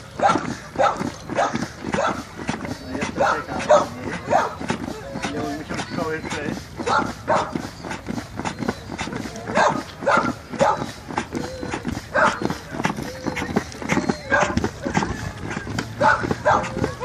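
A rescue dog barks and yelps repeatedly in quick bursts outdoors by a lake during water rescue training, with people talking over it throughout.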